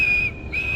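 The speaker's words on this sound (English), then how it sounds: "He ran onto the platform, blew his whistle, and jumped into his van." A railway guard's whistle sounds on a station platform as one shrill, steady blast that dips briefly in the middle before resuming, heard close over a faint background hiss.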